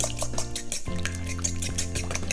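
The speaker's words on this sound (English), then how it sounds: "I'm gonna beat the eggs on the side." Eggs are beaten in a bowl with rapid, rhythmic clinking and scraping of a utensil against the dish, steady and close at moderate volume, with no talking.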